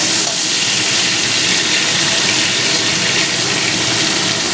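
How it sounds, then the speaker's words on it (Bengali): Cauliflower stems and other vegetables frying lightly in a pan make a loud, even sizzling hiss that runs unbroken from start to finish. "হালকা করে ভেজে নিই তাহলে সবজির কাঁচা গন্ধটা চলে যায়"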